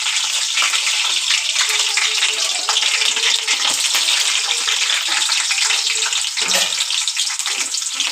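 Onions frying in hot oil for stuffed bitter gourd, a steady, loud, dense sizzle and crackle running unbroken from start to end, with no talk over it.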